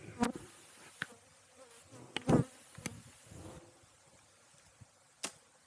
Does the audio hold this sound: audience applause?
no